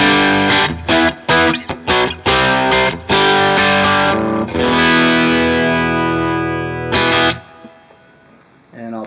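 Electric guitar played through a DigiTech RP1000 multi-effects processor on its standard core patch, loud and distorted with effected shimmer, a run of choppy strummed stabs followed by long sustained chords ringing out alone.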